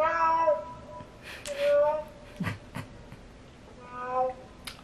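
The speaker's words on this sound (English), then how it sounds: "Oh, it's a cat!" A cat in the film Alien meows several times in drawn-out, wavering cries at the start and end, mixed with scattered knocks and brief voices in between.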